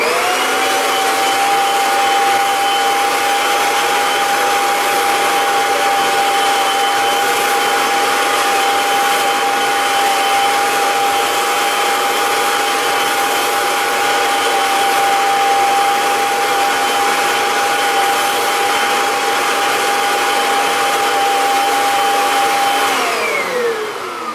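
A Kirby vacuum cleaner runs steadily on lowered suction for a long stretch, a loud constant motor drone and airflow roar that winds down slightly at the very end, with no talking.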